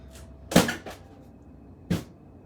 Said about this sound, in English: poster fell off from my door.